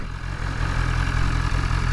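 Steady, close motorcycle engine idling set to maximum power mode, a low rumbling drone with slight pulsing and no speech.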